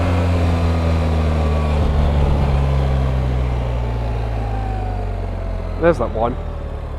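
A BMW R 1300 GS Adventure motorcycle engine drones steadily and loudly while riding, and someone speaks briefly near the end.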